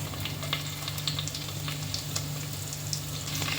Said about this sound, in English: Once they splutter, add chopped garlic, ginger and curry leaves.